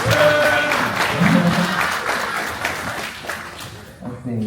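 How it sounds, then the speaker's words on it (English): Opening-ceremony audience at an FTO event bursts into applause for staff, a crowd clapping steadily then tapering off, with a speaker's voice over it. "let's give them a big round of applause"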